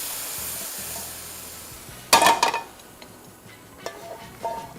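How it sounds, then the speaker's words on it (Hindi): Green chillies hitting hot oil for a tadka tempering in a pan, a sudden loud burst of crackling sizzle that quickly fades into softer spatters and a few light metallic clinks. "और ये आ गया तड़का।"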